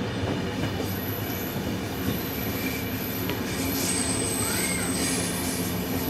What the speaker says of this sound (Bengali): ফাইনালি 1:42 ট্রেন কিন্তু ছাড়লো।